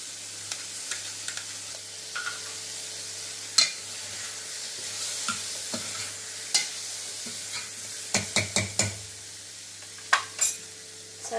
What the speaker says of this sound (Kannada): ಈ ಬೇಳೆಯನ್ನು ನಾನು ಇವಾಗ ಹಾಕ್ಕೊಳ್ತಾ ಇದ್ದೇನೆ.